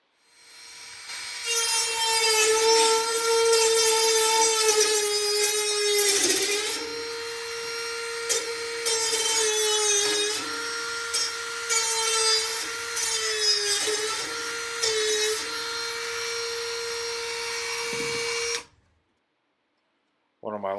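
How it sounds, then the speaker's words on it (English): Dremel rotary tool fitted with a cutting or grinding wheel trims the plywood edges of a rabbit nesting box, a high, steady whine that shifts pitch as it bites the wood, then stops abruptly. "use my Dremel tool with the cutting wheel or grinding wheel attachment to go along and trim up the edges of this box"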